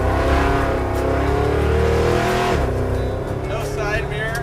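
Nitrous-equipped muscle truck accelerating hard onto a freeway, its engine roaring loud and steady from inside the cab, then dipping as the pitch shifts mid-run before climbing again.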